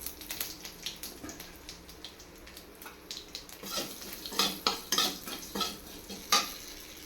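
Cumin seeds and chillies dropped into hot oil in a pan, giving a steady sizzle with sharp crackles and pops that grow louder and denser toward the end, mixed with scraping stirs of a utensil.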